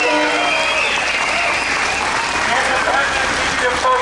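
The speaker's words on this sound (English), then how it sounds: "Can we please give them a round of applause?" Applause from a crowd at a Freedom Convoy rally, a thick continuous spread of clapping at steady volume with a few cheers and voices mixed in.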